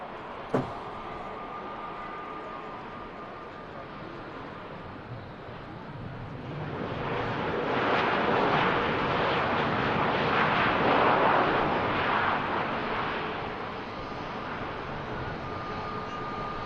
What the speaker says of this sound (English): There is the Airbus A380 1000 on the positioning flight